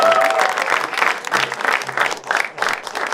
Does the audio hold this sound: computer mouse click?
no